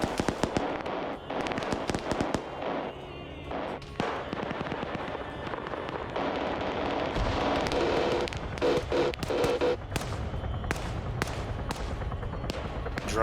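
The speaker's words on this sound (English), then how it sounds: "The M2's firing at Spooky and Dwight." Sustained bursts of heavy M2 machine gun fire in a multiplayer military video game battle, rapid loud cracking volleys layered over dense background noise, continuing throughout.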